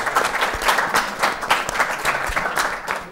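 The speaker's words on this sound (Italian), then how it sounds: "Io quasi replicherei l'applauso" Studio audience on a local TV sports program applauds steadily, a dense patter of many hands clapping at close range for a few seconds, with no talk over it.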